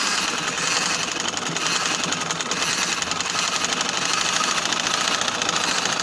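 Sewing machine stitching along a fabric edge, a loud, steady, close whirring hum that keeps going the whole time, with no talk.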